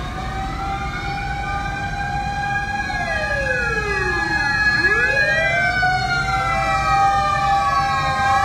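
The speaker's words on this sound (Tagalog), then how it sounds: "Sunod pa rin po ang datingan ng mga fire truck." Several fire truck sirens wail as they arrive at a fire in Sta. Cruz, Manila, with overlapping rising and falling tones that sweep past loudly over a constant rumble of traffic.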